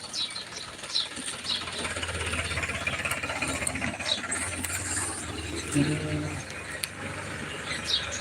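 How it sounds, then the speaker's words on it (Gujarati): A tractor passes along a village road in the morning, its mid-pitched engine chugging and mechanical clatter rising and falling as it goes by at moderate distance, with ratchety rattles and faint background sounds. "તમે જોઈ શકો છો કે જો ટ્રેક્ટર જઈ રહ્યું છે"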